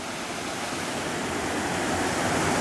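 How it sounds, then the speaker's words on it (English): Waterfall on Siquijor Island in the Philippines, water pouring down over stepped rock in a steady, loud, broadband rush that stays constant and close throughout with no voices. "And the water flows down."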